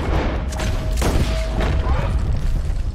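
Gunshots in Red Dead Redemption II, a few heavy booming blasts with a dull low-end thump standing out over constant game background noise, one sharp shot near the middle followed by a fainter second.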